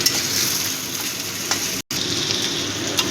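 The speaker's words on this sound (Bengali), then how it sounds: "শশা আর আদাটা একটু ভেজে নেব যাতে আদার কাঁচা গন্ধটা চলে যায়" Cucumber and ginger frying in a pan with oil, a close, steady sizzle with faint stirring scrapes, briefly cut off for an instant partway through before continuing.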